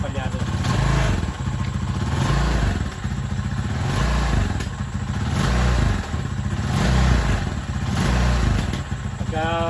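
Rusi Macho 125/175 motorcycle engine running on choke and misfiring, a loud close uneven chugging with surging rhythmic pulses and stumbles, a voice speaking faintly beneath.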